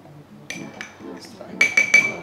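A metal spoon taps and clinks against a coffee cupping bowl while scooping freshly ground coffee, giving a few bright chimes up close with soft background talk between them.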